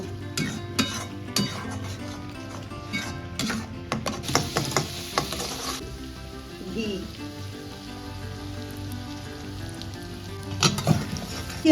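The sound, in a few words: ground spice paste being fried and stirred in a pan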